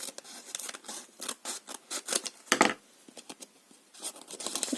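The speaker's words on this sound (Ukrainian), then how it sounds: "І розкриваємо останній третій пакетик." Crinkly plastic rustles and tears in quick, uneven bursts close by, as a small packet of stress-relief toys is pulled and ripped open.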